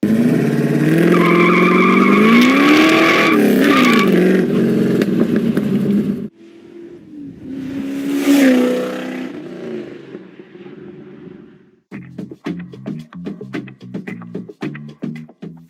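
Loud car exhaust through a cross-member-back X-pipe system on a 1976 Trans Am, revving and roaring with rising and falling pitch, a brief lull, then a series of sharp throttle blips near the end.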